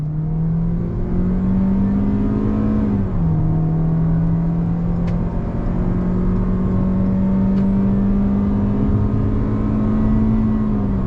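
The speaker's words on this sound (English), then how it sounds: "Uphill, this is gonna be tough, but here we go, on throttle." A 2022 Toyota Corolla Cross XLE AWD engine drones steadily under throttle climbing uphill on a Texas highway, its pitch dipping at a simulated gear change then climbing again, loud and continuous with road whir beneath.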